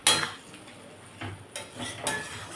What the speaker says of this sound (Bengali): এবারে নাড়িয়ে দিচ্ছি চিকেন কষাটা।